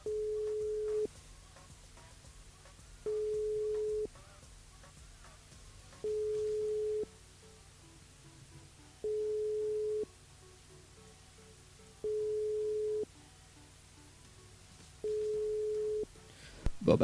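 A telephone ringback tone on an unanswered call repeats six times, each steady tone lasting about a second with two-second gaps, faint over quiet line hiss.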